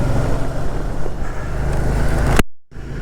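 Riding a Can-Am Spyder three-wheeled motorcycle on the road, a steady engine drone with wind and road rumble runs close-up, then cuts to silence for a moment before resuming.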